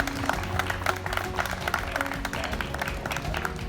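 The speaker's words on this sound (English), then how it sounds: "Yeah, let's give them a big round of applause." An audience at an outdoor car show applauds, a dense, steady patter of many hands clapping at moderate distance, with faint voices underneath.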